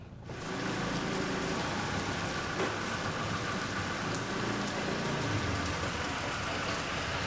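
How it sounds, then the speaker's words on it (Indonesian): Light rain falls steadily in a rural village setting, a continuous broadband patter with scattered drops on surfaces, close and fairly loud throughout with no voices. "cuma agak hujan, jadi pelan-pelan aja ya"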